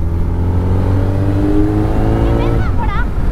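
A Kawasaki Z900 motorcycle engine hums loudly and steadily while riding, its pitch easing slowly downward as it slows, with brief warbling tones toward the end.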